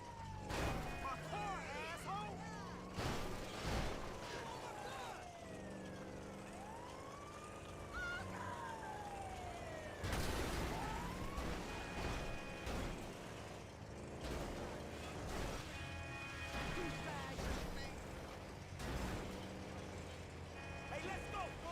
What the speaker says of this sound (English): Oh, an ambulance.